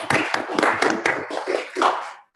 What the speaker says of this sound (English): Let's give applause to our expert.